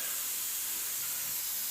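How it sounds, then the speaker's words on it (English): Soft, steady hiss of an airbrush atomizing paint from about eight to ten inches away, a continuous airy spray without pauses or voices. "Nice soft spray."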